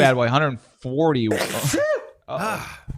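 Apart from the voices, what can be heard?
sneeze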